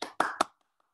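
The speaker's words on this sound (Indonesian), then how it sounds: "Kalau hebat, tepuk tangan dong buat Tuhan kita yang hebat." Children clap in a Sunday school group: three quick, close claps, then silence.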